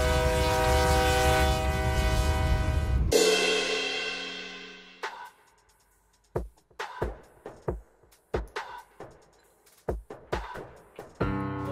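A train passing with a loud sustained horn blast that fades, followed by a rhythmic series of heavy clickety-clack wheel thumps over rail joints, close and fairly loud.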